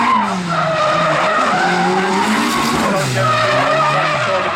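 A drift car in a drift competition qualifying run screeches through a long continuous tire skid, its engine wailing and shifting pitch as it slides, loud and sustained throughout.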